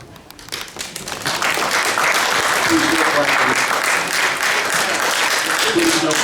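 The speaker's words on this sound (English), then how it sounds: "Please no clapping." A city harbor commission meeting audience breaks into sustained applause, building from scattered claps into a loud, dense wash of clapping that holds steady, with voices mixed in.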